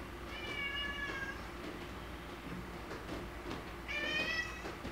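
A cat meows twice in long, drawn-out cries, one near the start and one near the end, over a steady low background hum.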